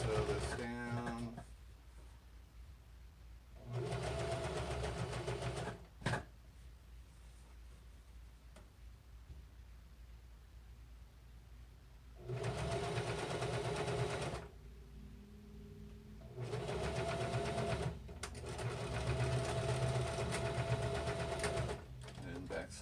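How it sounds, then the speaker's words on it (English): Sewing machine stitching fabric while repairing clothes, including a back stitch: several separate steady whirring runs of a few seconds each, close, with quiet handling gaps between them. "Do a back stitch there to get everything set, and then we'll just kind of sew this down."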